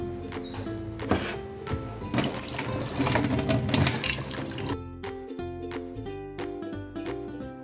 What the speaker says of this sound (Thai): เดี๋ยวเราจะเอาเมล็ดทุเรียนนะคะ ล้างนะคะ ล้างไอ้ตรงที่ ขาวๆนี่นะคะ ออกให้หมดค่ะ